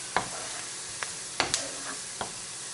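Onions frying and being stirred in a pan for a quick noodle dish: a few sharp scrapes of the utensil against the pan over a faint, steady sizzle, close and fairly quiet, with no talking.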